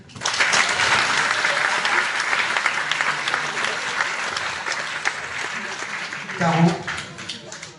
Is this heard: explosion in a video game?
no